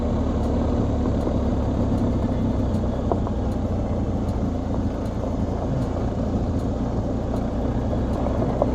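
A BMW GS Adventure motorcycle rolls down a gravel road, its engine a steady low drone under continuous wind and road rumble.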